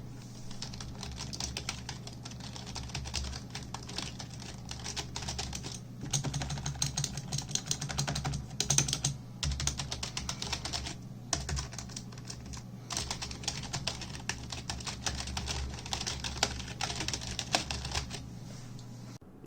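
Typing on a Razer Cynosa Pro budget keyboard, recorded on a phone mic: a continuous run of soft key clatter with short pauses between bursts, over a low steady hum.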